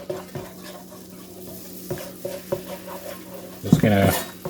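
A whisk stirring a cheese sauce in a pan used earlier for garlic and onion, with repeated soft scraping strokes and a brief louder clatter of metal against the pan near the end.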